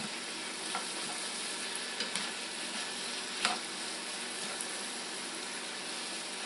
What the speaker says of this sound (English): Just going to go ahead and stir those onions in there.